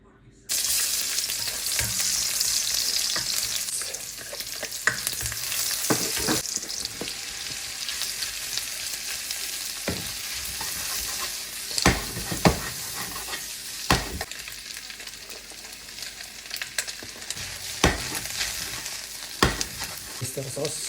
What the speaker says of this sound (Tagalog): Pinainit ko na itong mantika.